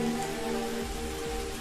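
Rain falls on a tree branch in a constant soft patter and hiss, with a faint, steady tonal hum beneath it and no voices.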